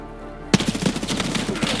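Gunfire in the video game Escape from Tarkov: a sudden loud shot opens a rapid burst of repeated shots, continuing in an uneven rhythm after near silence.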